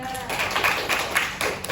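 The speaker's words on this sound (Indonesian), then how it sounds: "Tepuk tangan untuk kelompok 3." A classroom of students claps for group 3 after a science project presentation on pollution, a brief burst of scattered hand claps at moderate loudness in a reverberant room, with some overlapping voices.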